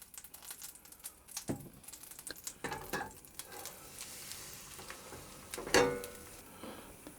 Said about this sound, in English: I'm going to cook the remaining pancakes in exactly the same way